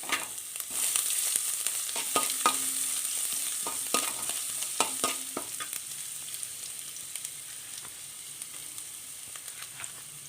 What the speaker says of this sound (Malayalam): ഇതിലേക്ക് ഒരു വലിയ കഷ്ണം ഇഞ്ചി ചെറുതായിട്ട് കൊത്തി അരിഞ്ഞത് ചേർത്ത് കൊടുക്കാം